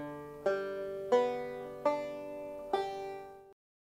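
Four banjo open strings ring out one after another at an even pace, each plucked note bright and sustaining before the next, close and clean with no talking, ending in silence.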